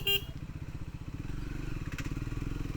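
A Triumph Scrambler 400X single-cylinder motorcycle riding through a city, its engine thrumming steadily and rising in pace, with a short horn-like burst at the start.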